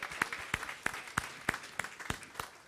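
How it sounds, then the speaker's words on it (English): A summit audience gives a round of applause: a sparse, quiet clapping with distinct individual claps at a steady, fairly slow rhythm, somewhat distant. "You deserve a real round of applause"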